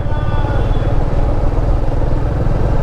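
A motorcycle rides along an empty road at dawn, its engine a steady, loud, close drone that never lets up, with a rough mid-range rumble and no voices.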